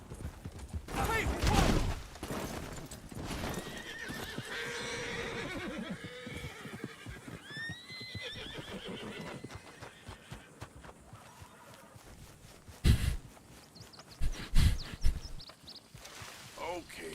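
A horse in Red Dead Redemption 2 whinnies in sharp, rising calls, with hooves clopping under scattered game voices and a few loud bursts near the end.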